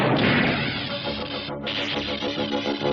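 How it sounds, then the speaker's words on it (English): An energy bolt strikes a starship's shields as a loud, dense crash with a roaring, whooshing burst that fills the full three seconds and dips briefly midway. "The cloud sent a deadly energy bolt smashing into their shields."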